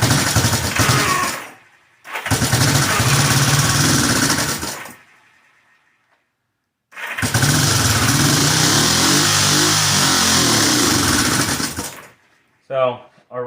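A vintage Honda CB motorcycle with a dead left cylinder fires up and revs in two loud, close bursts separated by silence, sputtering off each time, with a brief sound at the very end.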